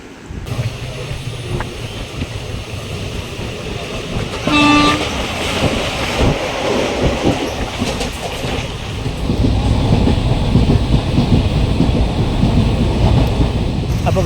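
A train at a railway station for a 9 o'clock departure: steady, loud rumbling and rolling noise with a short horn toot early on, the rumble swelling louder toward the end, and no talking.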